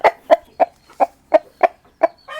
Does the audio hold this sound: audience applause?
no